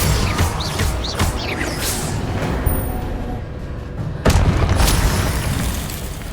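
Spell blasts and explosions from combat in the Hogwarts Legacy video game, a dense, loud barrage of booming bursts with a strong fresh impact partway through, layered over a continuous roar.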